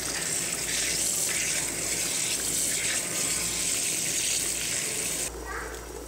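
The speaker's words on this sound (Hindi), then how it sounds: "और अब हम राइस धोएंगे।" Rice is washed under running water in a kitchen during pulao preparation, giving a steady, close gush and splash of water that shifts slightly in tone near the end.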